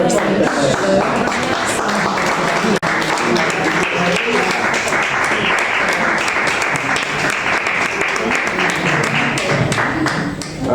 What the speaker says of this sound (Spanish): Un aplauso a José Luis Pardo.